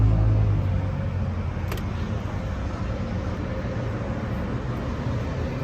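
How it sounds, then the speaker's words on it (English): Road traffic makes a steady broadband rumble and hiss, strongest at the start, that fills the background near a Polaris Ranger XP 1000 North Star Crew utility vehicle, with no talk. "So we got a little bit of noise going on here. We got some traffic"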